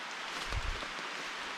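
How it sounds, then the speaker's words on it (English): Rain falls on a jungle camp, a soft continuous hiss of drops on leaves and surfaces with a brief low thud partway through, quiet and steady. "It's raining, you can hear that."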